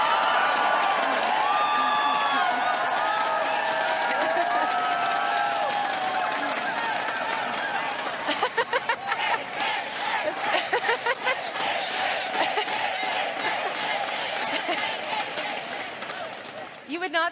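Large political convention crowd erupting in loud, sustained applause and cheering during a leadership speech, dense clapping with shouts, fading toward the end.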